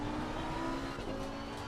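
A GT3 race car in a sim racing game holds a steady engine drone that dips briefly near the middle, then carries on.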